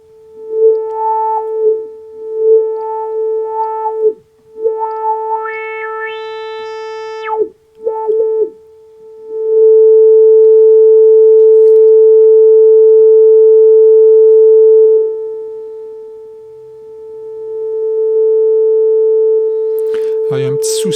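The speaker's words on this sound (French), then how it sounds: "il y a un petit souci. On entend des escaliers. C'est pas évident en MIDI de gérer ça." A MIDI-controlled synthesizer plays clean sine-like tones, with short melodic phrases and pitch glides that move in audible steps instead of smooth sweeps, followed by a long steady held note. The tone is loud and clear, with no talking.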